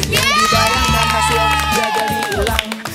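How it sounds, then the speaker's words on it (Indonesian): A crowd of school students cheers and shouts loudly and steadily, with high excited voices filling the whole stretch and only faint clapping. "Tepuk tangan dulu buat kita."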